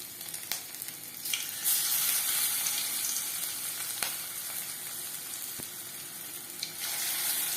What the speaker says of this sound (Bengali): পাকোড়া ভাজবো মিডিয়াম ফ্লেমে।